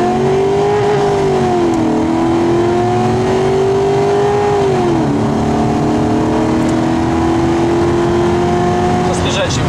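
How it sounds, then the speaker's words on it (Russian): An old car on a test drive, its engine droning steadily from inside the cabin with rising and falling pitch as it accelerates and shifts, while people talk over it. "Сейчас будем проверять, сколько это ведро поедет."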